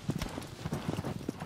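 Galloping horse hooves in the video game Shadow of the Colossus, a fast, steady clip-clop rhythm of repeated thuds running through the whole stretch at moderate loudness.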